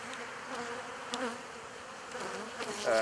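Honey bees from a beekeeping colony hum in a steady, fairly faint drone at the hive, a continuous buzz with a few slightly louder swells as insects pass close.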